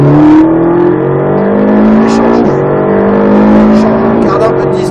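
Ferrari 458 Italia accelerating hard on the Croix-en-Ternois race circuit, a loud close engine note climbing steadily with a brief dip at a gear change, heard from inside the car under an instructor's talk.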